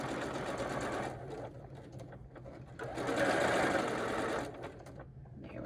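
A sewing machine stitches fabric for a cardinal-shaped pillow, running in two bursts of rapid, even mechanical whirring with a short pause between them, fairly close and moderately quiet.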